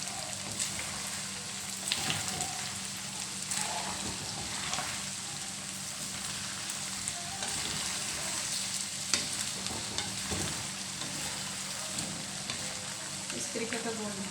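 Chicken pieces for a dhaba-style karahi fry until golden in hot oil, giving a dense, even hiss like rain on a surface with scattered pops and utensil scrapes throughout, close and steady.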